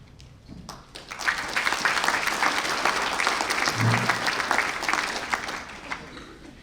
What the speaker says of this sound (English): Please join in another round of applause for these 2024 Ivy Day Award recipients